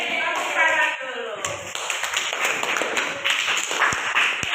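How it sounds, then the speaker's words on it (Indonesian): A classroom of students claps together after agreeing on class rules, a dense burst of hand claps with children's voices mixed in throughout. "Tepuk tangan dulu"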